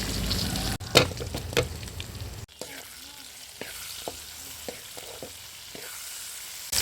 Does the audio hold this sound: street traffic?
no